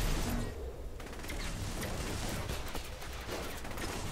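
Gunfire in Saints Row: The Third, a dense fusillade of rapid shots that crackles continuously for several seconds, loud and close with no clear breaks.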